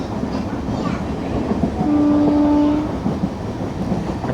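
A train rolls toward Kottayam station, wheels clattering steadily over the rails, with a brief sustained horn tone sounding midway before the running noise continues.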